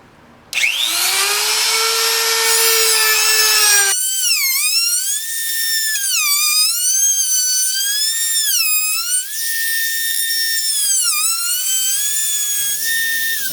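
A power tool makes its final carving pass over an alder guitar body, leaving burn marks. It gives a loud, continuous high whine that starts abruptly and then wavers up and down in pitch as the cut continues, with no voices.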